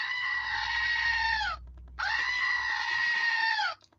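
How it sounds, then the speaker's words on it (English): A screaming goat novelty desk toy lets out two loud, long bleating screams, the second after a short pause, each ending with a falling pitch. "And it's a screaming goat."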